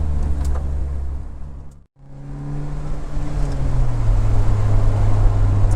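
An Opel Speedster drives on the Spa-Francorchamps circuit, its engine droning steadily with wind noise. A brief dip in the sound comes about two seconds in, then the engine note rises and holds strong.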